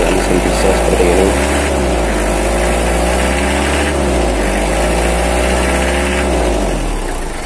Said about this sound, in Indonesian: dari suaranya juga kelihatan menurut saya mesin diesel seperti ini.